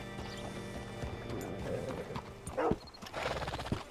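Horse hooves clip-clop in an uneven rhythm in the video game Red Dead Redemption 2, with a short snort or whinny near the end; no talking.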